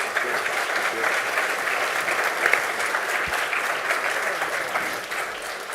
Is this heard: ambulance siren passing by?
no